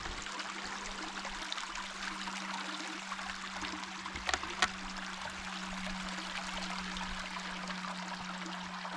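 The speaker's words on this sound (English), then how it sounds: "we are sitting right at the edge of the actual Pinnacle Creek" Pinnacle Creek runs in a steady, soft wash of flowing water heard from right at its edge, with a constant hum and a couple of faint knocks partway through.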